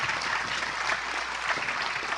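Audience applause for a prime minister at a Global Biodiversity Alliance opening address, a short burst of dense, steady clapping from a hall crowd, moderately loud and without talk.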